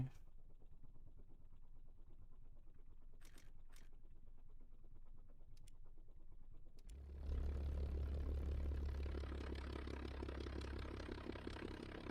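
A propeller aircraft in War Thunder runs at a low idle hum, then around seven seconds the engine surges to a loud, steady droning roar as it powers up for takeoff and holds there.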